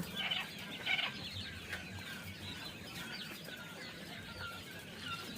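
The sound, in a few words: European giant coturnix quail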